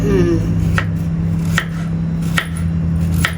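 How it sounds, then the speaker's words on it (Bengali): Potatoes being chopped into thick pieces on a board, four sharp knife strikes spaced roughly evenly, close and clear over a steady low hum. "বেশি ছোট ছোট করবো না পাতলা পাতলা করবো না আর একটু মোটা মোটা"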